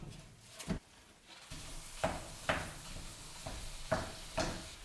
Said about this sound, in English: Get your ground sausage into the skillet and start breaking it up.